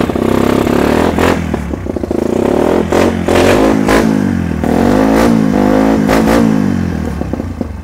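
A used sport motorcycle engine revs loudly and close, rising and falling through several throttle blips over a steady rumbling idle, with no talking.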